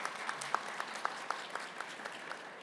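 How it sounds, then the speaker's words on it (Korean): Applause from a small audience at a mock group-discussion job interview for a public institution, with a sparse rhythm of separate claps at moderate distance, fairly quiet and steady throughout. "이분들한테 여러분들 격려의 박수 힘차게 한번 부탁드리겠습니다"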